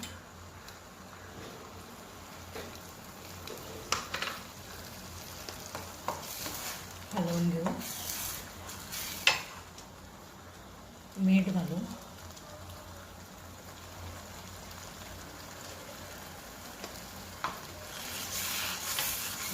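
Chili powder and goda masala sizzle and fry in a pan with steady crackling, a couple of louder stirring bursts, and voices murmuring faintly in the background.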